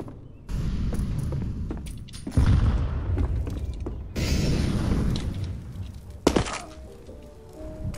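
Counter-Strike: Global Offensive competitive match on the Inferno map: an incendiary grenade lands with loud thuds and mechanical clatter, then erupts into a sustained roaring burn amid other close game effects.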